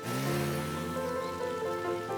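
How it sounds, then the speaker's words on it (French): Steady, dense rain pouring down, a constant hiss of water hitting surfaces with a faint tonal hum running underneath. "Wow, et ça tombe vraiment fort!"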